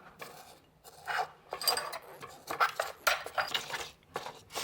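Garlic mashed with kosher salt in a mortar and pestle, repeated gritty grinding and scraping strokes in an uneven rhythm, close and fairly quiet, with no voices.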